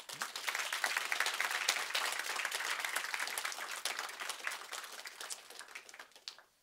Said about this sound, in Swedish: med en varm applåd